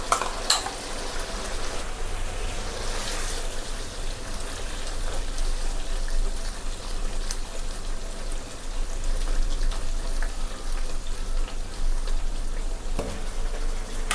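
Water is poured to rinse the leftover cashew-almond paste into a pot of chicken korma, making a continuous splashing, sizzling hiss with stirring scrapes and a few sharper knocks.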